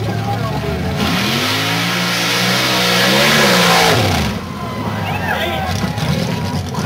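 A mud racing truck's engine revs hard and rises in pitch as it plows through a mud pit, loud and sustained, then drops off near the end, with crowd noise and an announcer talking over it.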